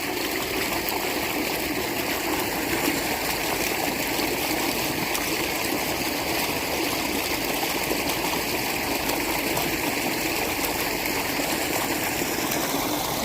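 Water from a pump motor flows steadily through a farm irrigation channel, a continuous rushing, trickling wash that holds at an even level for the whole stretch with no talk over it.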